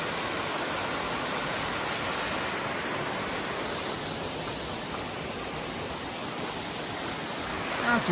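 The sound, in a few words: waterfall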